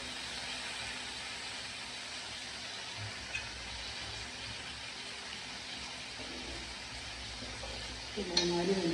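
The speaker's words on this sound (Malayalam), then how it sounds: "പിന്നെ 4 മിനിറ്റ് നന്നായി വറുക്കുക." Chicken fries in a pepper masala gravy with a steady low sizzle, and a few stirring scrapes come near the end.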